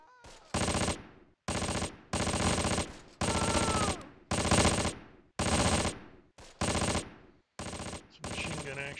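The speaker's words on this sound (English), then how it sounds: "Some machine gun action there." Machine gun fire in the World War II strategy game Close Combat: Panthers in the Fog, with loud repeated sustained bursts, about eight of them, separated by short gaps.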